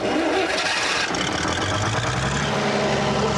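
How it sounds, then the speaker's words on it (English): A British generator unit with a Leyland diesel engine cranks and catches, then runs loud and rough with a steady, throbbing mechanical roar close by. "It's a Leyland engine, and it's a British generator unit as well."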